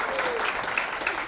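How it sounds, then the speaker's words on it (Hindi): Applause from the audience at a book launch party rises in a short burst of clapping, with voices mixed in beneath it. "अरे भाई जोरदार तालियां हो जाए."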